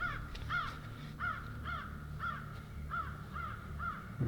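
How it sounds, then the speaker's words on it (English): Crows caw in a forest in the Mark Twain National Forest, a regular series of about eight harsh calls spaced half a second apart, fairly distant over quiet woodland ambience, with no talking. "And the crow's calling back."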